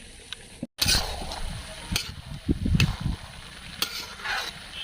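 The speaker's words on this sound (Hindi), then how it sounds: "तो अब मैं इसमें आग तेज़ कर देती हूँ और इसको अच्छे से पकने देती हूँ" Chickpeas cook in a pot of water over an open wood fire outdoors on a windy day, with a soft bubbling, sizzling bed broken by several sharp clanks and scrapes of stirring, close by.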